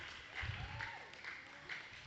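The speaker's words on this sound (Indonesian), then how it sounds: "Tepuk tangan dulu untuk pemateri kita." An audience at a sharing session in an Indonesian Islamic boarding school applauds the speaker, a steady, fairly soft patter of many hands that lasts the whole moment.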